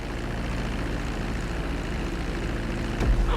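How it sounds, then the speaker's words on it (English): A plane taxis on a runway in Grand Theft Auto V, its engine holding a steady low propeller drone, with a brief louder bump near the end. "Now let's get the plane off the runway."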